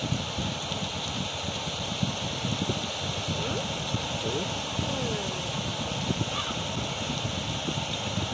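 Rain falling on a dark night in the video game Egg NS, a constant hiss of rainfall with soft scattered patters over a low rumbling bed, unbroken and fairly loud.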